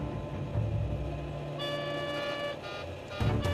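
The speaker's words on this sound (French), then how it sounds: "C'était une alarme de configuration qui indiquait que dans cette situation, l'appareil ne pouvait pas voler" Cockpit takeoff configuration warning alarm on an airliner flight recording, a loud steady electronic tone that switches on partway through and sounds continuously over engine rumble.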